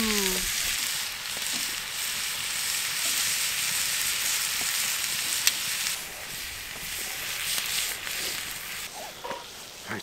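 Sausages sizzle steadily in a pan with hoisin, chili and hot sauce at a winter campground, a dense continuous frying hiss with faint scattered clicks throughout.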